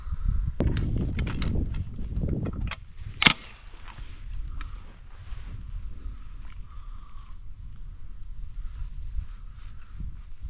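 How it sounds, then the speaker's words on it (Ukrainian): A single sharp rifle shot fired from a carbon-fibre tripod in an unstable position outdoors, one crisp crack standing out over steady wind noise and faint handling sounds. "Спробуємо зробити постріл."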